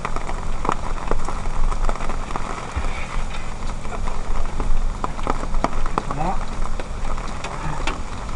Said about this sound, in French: c'est un gros orage avec de la grosse pluie.